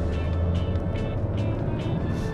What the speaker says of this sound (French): Je crois que c'est les pneus qui n'étaient pas en train de tourner comme il faut.